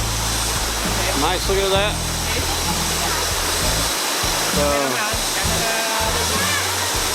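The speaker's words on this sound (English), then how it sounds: "Nice looking at the water coming down across the rocks there." A tall waterfall pours over rocks on a Northern Luzon road trip, a loud, constant rushing roar that fills the whole clip while someone talks over it.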